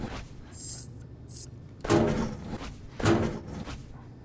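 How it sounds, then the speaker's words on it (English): Drawers being opened in the VR game Apex Construct: two distinct wooden sliding thuds about a second apart, with faint higher clicks beforehand, set against a quiet background. "you can open all these drawers"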